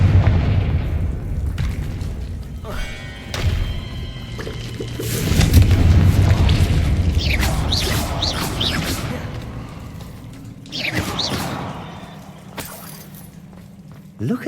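Repeated Confringo fire spell blasts in the video game Hogwarts Legacy boom and crackle over several seconds, with sharp bursts, a swelling roar midway and scattered debris-like clatter, loud and close.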